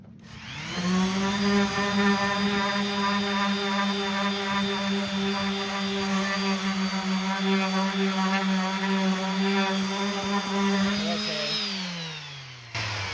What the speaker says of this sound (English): let's get sanding on it